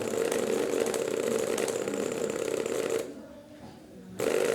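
A running gas pump compressor with worn rubber mounts gives a steady, loud mechanical drone with a rough vibrating buzz, briefly dropping out for about a second before resuming.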